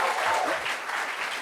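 A studio audience claps to welcome a guest onto a French talk show, a steady, dense wash of applause filling the whole short stretch with a faint murmur underneath.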